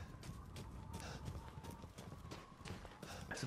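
Goat hooves in the video game Resident Evil 8: a run of quick, clattering hoof steps, fairly faint against a busy game background.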